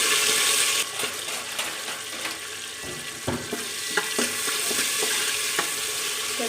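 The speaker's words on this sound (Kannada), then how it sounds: "ಚೆನ್ನಾಗಿ ಫ್ರೈ ಮಾಡ್ಕೋಬೇಕು." Cumin, bay leaf, green chilies, onion and tomato fry for pulao in a pan, a loud steady sizzle close by, broken by scattered clicks and scrapes of stirring.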